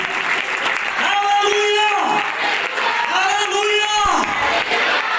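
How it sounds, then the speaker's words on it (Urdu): Loud applause and cheering from a congregation at an Urdu-language church sermon, a sustained swell of clapping under a preacher's raised, chanting voice. "زوردار تالیاں"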